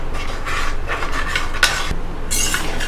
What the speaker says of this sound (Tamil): ஸோ ஆட் பண்ணிவிட்டு நல்லா கலந்து விட்டுலாம்.